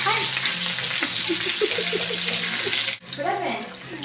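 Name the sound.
bacon frying in a pan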